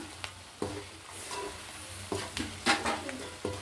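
Chicken pickle pieces being mixed by hand into hot rice with ghee, giving soft wet squelches and scattered clicks of a utensil against a dish, quiet and close with small sharp taps.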